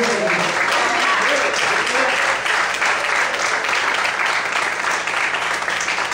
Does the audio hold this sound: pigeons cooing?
no